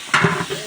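Ginger and garlic paste hitting a hot frying pan, giving a sudden close burst of sizzling hiss that continues steadily for a fraction of a second.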